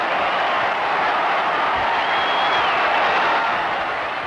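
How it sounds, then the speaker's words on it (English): Baseball crowd at Shea Stadium during the 1969 World Series between the Mets and Orioles, a broad, sustained roar of cheering that swells slightly toward the middle, loud and continuous with no distinct voices. "The crowd loves it."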